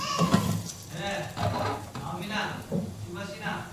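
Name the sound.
vegetables sizzling while being sautéed in a pan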